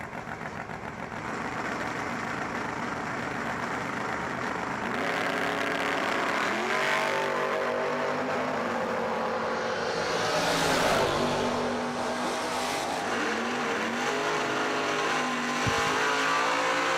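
A 1995 Chevrolet Camaro drag race car revs hard at a door car drag event, the engine rising and falling in loud, close bursts alone with no talk, with a brief sharp pop near the end.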